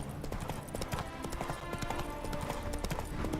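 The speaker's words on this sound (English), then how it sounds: "Spooking my horse." Horse hooves clip-clopping in The Witcher 3 video game, a steady trotting rhythm of hoofbeats continuing throughout, with faint game voices and ambience mixed in behind.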